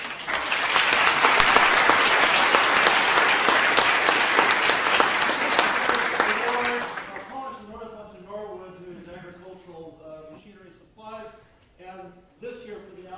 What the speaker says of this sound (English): I think that deserves one more round of applause.